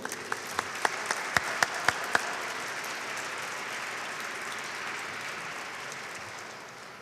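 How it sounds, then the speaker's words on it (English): A room claps for Gold Star families at a Veterans Day observance in Enid, opening with a few sharp, close individual claps before broad, even applause carries on steadily. "Let's give them all a round of applause to show our appreciation."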